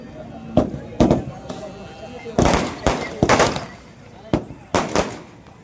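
Firecrackers go off at a busy bull market in Jamb-Jalkot, Nanded: about a dozen sharp cracking bangs, some single and some in quick clusters, fairly close, with faint crowd noise between the bursts.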